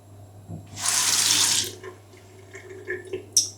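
Tap water gushes into a sink for under a second to rinse a tongue scraper, a loud broadband splash that cuts off, followed by a few faint clinks and small drips.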